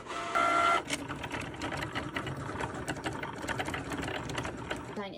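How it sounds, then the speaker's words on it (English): A Cricut cutting machine cuts a shirt design with a steady, quiet mechanical whirring and rapid clicking carriage movements. A brief tone sounds at the start. "And now, it will start cutting."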